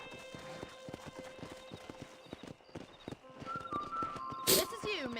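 Horse hooves clip-clopping at an even walking pace in the game Red Dead Redemption, close and rhythmic, with a whinny and a voice near the end.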